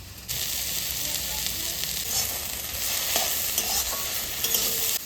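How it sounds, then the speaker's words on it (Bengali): Pipul greens frying in a pan while being stirred, giving a steady, close sizzle with soft scraping throughout and no talking. "আমার পিপুল শাক ভাজা ভাজা করা হয়ে গেছে"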